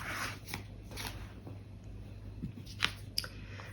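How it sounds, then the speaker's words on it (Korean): Tarot cards are shuffled and drawn from a deck, giving soft papery swishes and brief flicks. Several faint, close strokes and snaps come at uneven intervals in a quiet room. "카드 3장을 뽑아서 보도록 할게요."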